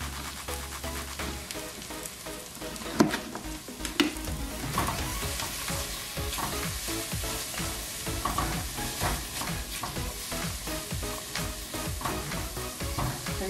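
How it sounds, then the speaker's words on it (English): Onions and vegetables cooking down in a pot on medium-high heat make a dense, continuous sizzle, with a few louder clanks of stirring near the start. "I'm just letting the vegetables, the onions cook down on like a medium-high heat"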